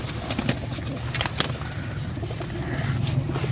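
Pigeons, including Royal females kept for breeding, coo steadily in a loft, with soft repeated murmuring calls and occasional light rustles and flaps throughout, moderately near and fairly quiet.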